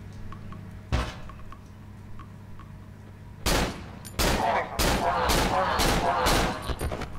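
Gunshots in the survival horror game Cry of Fear: one sharp shot rings out early, then after a pause comes a rapid run of loud, evenly spaced shots over a low hum. There is no talking.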